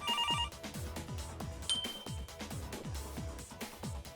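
A telephone gives a brief trilling double ring at the start, then thumping rhythmic music with a single bright chime takes over.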